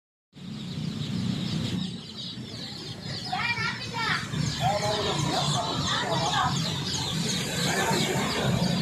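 Chicks and birds chirp and cluck in a continuous busy chorus at a bustling Indonesian animal market selling colourful chicks, colourful birds and ducklings, with market chatter and children's voices mixed through the background.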